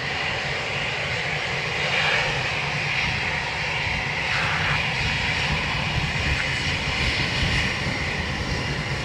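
A fixed-wing aircraft approaches to land on runway 28 left at Dublin Airport, its engine roar steady and loud throughout, heard alone.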